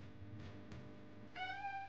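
A cat meows once, brief and clear, in a horror-themed Farming Simulator game, rising over a low steady background hum near the end.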